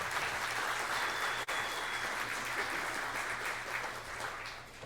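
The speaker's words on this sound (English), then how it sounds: "Please give her a huge round of applause" A crowd at a Democratic meet-and-greet gathering in Ste. Genevieve gives a sustained round of applause, a dense, even wash of many hands clapping at moderate distance, easing slightly toward the end.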